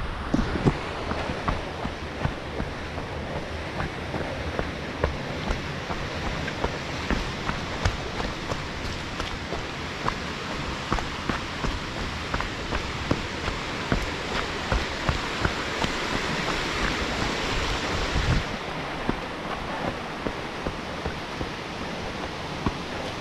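A waterfall in the Jura mountains near Saint-Claude roars as a steady, loud rush of water, with light running footsteps passing close through it and the roar easing slightly near the end.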